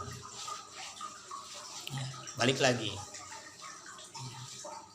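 Water running from a tap onto hands during ablution washing, a soft steady splash under a woman's speech, with a brief louder gush in the middle.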